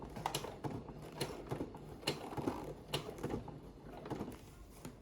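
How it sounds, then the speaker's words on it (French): Sewing machine running a wide topstitch with coordinating thread, a steady rapid mechanical clatter of needle strokes that stays close and even throughout, with no voices. "je couds avec un beau point un peu large et un beau fil coordonné"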